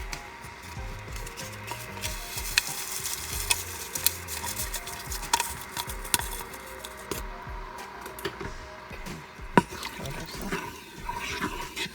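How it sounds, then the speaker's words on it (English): A pot of cabbage and neck bones stirred with a utensil, with irregular scraping and clinking knocks against the pot over a low bubbling simmer, close and moderately quiet. "I'm going to stir this up"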